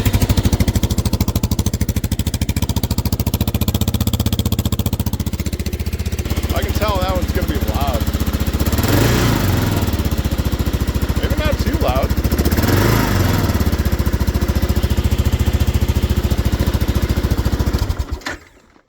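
A Kawasaki KLR650 motorcycle with a new, louder slip-on exhaust idles with a steady, close, throbbing thump, and a couple of brief revs rise over it before the engine cuts off. Someone talks over the engine.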